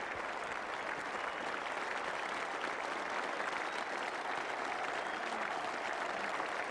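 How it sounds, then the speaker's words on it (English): A capacity cricket crowd at the Oval applauds during the 1985 Ashes Test, a dense, sustained wash of clapping from many hands that carries evenly throughout and is heard at a distance with no talk over it. "Great ovation for a great player."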